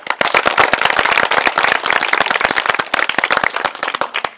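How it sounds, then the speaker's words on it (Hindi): Loud, dense group applause fills the space, many hands clapping continuously at close range during a classroom session for ninth-grade students. "आशुतोष गोटे ताली"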